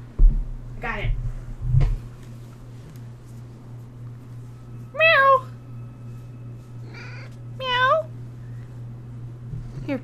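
A pet cat named Smokey meows several times, its rising and falling calls standing out clearly, while a low steady hum runs underneath and a person talks softly to it.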